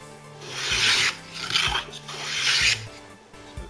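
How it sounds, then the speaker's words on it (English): A hand plane makes three rasping strokes along a bandsawn wooden edge of a trebuchet weight box end, each pass a close, loud scraping swish with brief gaps between. "I'm just going to plane that edge smooth"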